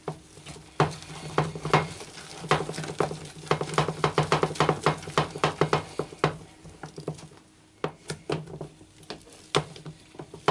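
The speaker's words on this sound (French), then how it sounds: "on va venir fouetter donc les blancs à la préparation" Whisk beating egg whites into pancake batter in a bowl, quick irregular clicking and tapping strokes against the bowl, close and fairly quiet, easing off toward the end.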